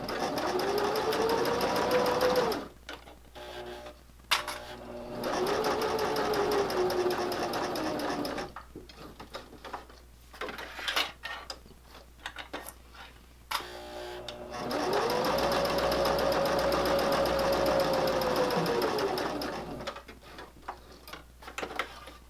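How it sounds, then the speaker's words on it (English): A sewing machine stitches a fabric corner bookmark in three long runs of rapid, even mechanical whirring, broken by quiet pauses with clicks and handling as the needle is set down and the fabric turned, close and loud. "needle down, move that clip, lift and turn, and continue sewing."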